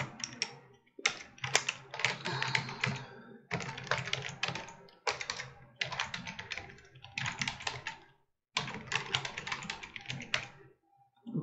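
Names are typed on a computer keyboard in rapid clattering bursts of keystrokes, close and clear, broken by short pauses, with no voices.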